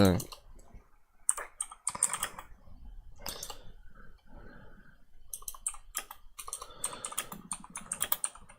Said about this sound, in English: If I can type. I'm trying to do it without looking at the keyboard.